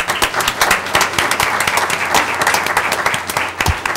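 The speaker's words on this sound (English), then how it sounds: "Let's give them a round of applause." Steady applause from an audience at a school board meeting, many hands clapping continuously and fairly close for a few seconds in honor of award winners.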